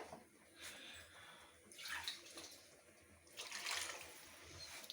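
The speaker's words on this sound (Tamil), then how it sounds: "நம்ம கொஞ்சம் வந்து தண்ணி சேர்க்க போகிறோம்" Water pours in a few soft splashing surges into a pot of thick tamarind curry gravy, the liquid rushing faintly and then settling between pours.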